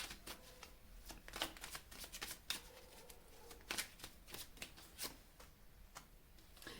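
Tarot cards being shuffled by hand as a second deck is mixed, a quiet, close run of crisp riffles and soft taps in irregular bursts throughout.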